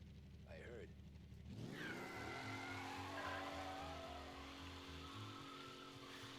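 A worn, poorly handling car in the video game Mafia revs and drives, with a rising engine drone and sliding tyre squeals over a rhythmic music bed, moderately close and continuous.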